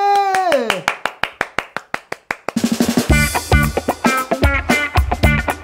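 Hands clap in a home, first as sharp single claps that speed up, then as steady clapping under a voice and background music.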